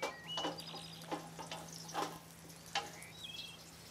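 Whole garlic cloves sizzle in olive oil in a hot pan with a soft, steady frying hiss, punctuated by a few light clicks and stirring knocks, while faint bird chirps sound in the background.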